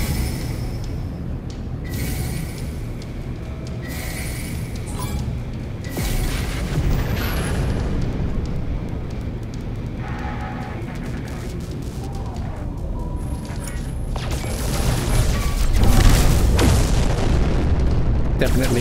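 Rocket blasts and booming explosions in No Man's Sky combat on Xbox, repeated heavy bursts throughout with a louder cluster near the end, mixed with game noise and some talk.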